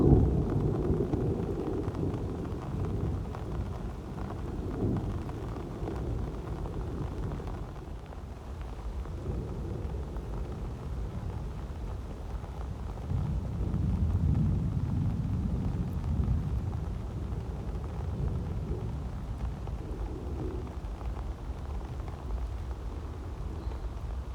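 A windy thunderstorm with heavy rain forms a steady, close wash of noise, with low rolling rumbles of thunder swelling midway and around the fourteen-second mark.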